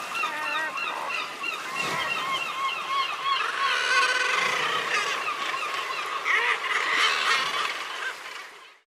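A seabird colony of razorbills, kittiwakes and herring gulls on the Bay of Saint-Brieuc coast fills the air with a loud, dense chorus of overlapping cackling and wailing calls, continuous throughout before cutting off at the end.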